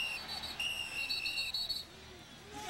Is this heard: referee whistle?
yes